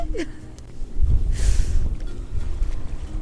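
Strong wind gusting across a lakeside bass-fishing spot in winter, a loud low roar buffeting the microphone that swells midway and keeps rumbling throughout.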